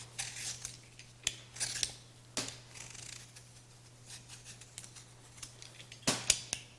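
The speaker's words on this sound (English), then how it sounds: "So now you're going to peel off the skin once you cut it in half." Scraping strokes of a peeler taking the skin off a halved butternut squash, a series of quiet, crisp swipes at an irregular pace over a low steady hum.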